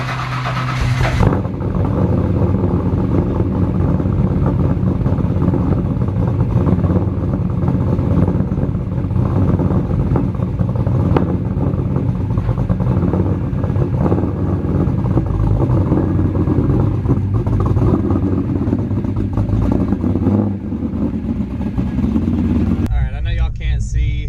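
A car's engine runs steadily while it drives toward a repair shop, a constant rumble with road noise that holds evenly throughout and ends with a short burst of other sound.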